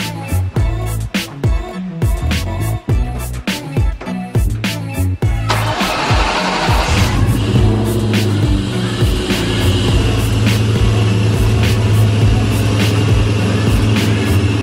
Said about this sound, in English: we're just going to get the car out of the garage and get it pressure washed